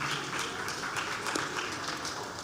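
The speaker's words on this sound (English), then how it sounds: "Please welcome with an applause Mr. Tayo Fagbule." Applause from a conference audience greeting a newspaper editor onto the stage, a steady wash of many hands clapping at moderate distance with no talk over it.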